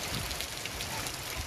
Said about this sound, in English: Now, this is video of the rain falling in Tammy Melchok's backyard